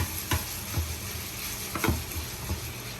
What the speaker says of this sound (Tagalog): Okay, stir fry lang natin yan na ganyan.